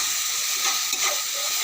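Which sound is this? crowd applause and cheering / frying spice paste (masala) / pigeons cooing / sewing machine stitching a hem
frying spice paste (masala)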